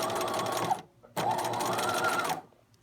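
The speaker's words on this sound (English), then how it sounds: "And then I'm going to backstitch." A sewing machine stitches a waistband sample in two quick bursts of steady, close mechanical whirring, separated by a short pause as it reverses to backstitch, with no talking.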